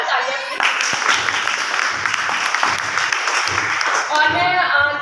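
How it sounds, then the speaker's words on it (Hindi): A crowd gives enthusiastic applause at a business gathering, dense sustained clapping that stays loud throughout, with a voice over it near the start and again near the end. "तो इनके लिए जोरदार तालियां।"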